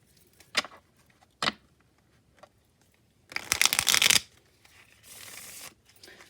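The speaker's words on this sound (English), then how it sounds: "The deck that I'm shuffling right now is the Kawaii Tarot" Kawaii Tarot cards being shuffled: a few short riffling bursts, then a longer dense flurry of card flicks and a softer sliding shuffle, close-up in a quiet room.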